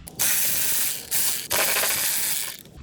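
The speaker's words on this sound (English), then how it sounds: "it's Torx, 2 Torx T30s. So you're gonna want to unscrew those." A tool works Torx T30 screws out of the air box on a 2023 BMW S1000RR, giving three close bursts of ratcheting clicks and whirring, loud with short gaps and no talking.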